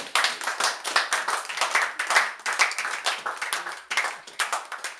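A church congregation claps along during a sermon, with dense, steady hand claps that pulse in loose rhythmic swells and carry on without a break for the whole stretch. No voices stand out.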